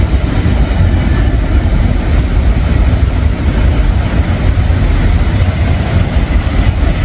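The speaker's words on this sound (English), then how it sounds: "I thought I heard a Norfolk Southern train" A Norfolk Southern freight train passes in Walton, Kentucky, producing a loud, continuous low rumble of rolling wagons that stays steady and close with no voices.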